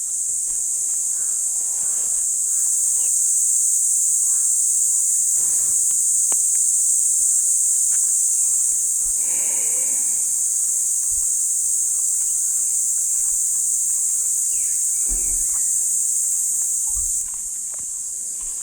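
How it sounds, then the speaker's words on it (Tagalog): Crickets and other insects chirp in a mountain forest at night in Tarlac, a high steady shrill drone that stays loud throughout, with a few rustles and footsteps nearby and no talk. "Nung tumahimik ako, yung tunog ng kuliglig parang palakas ng palakas."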